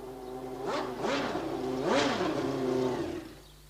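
A Marlboro McLaren-Honda Formula One engine revs in several sharp blips, a close, high-pitched rising and falling whine building to a peak near the middle before settling into a steady idle-like tone.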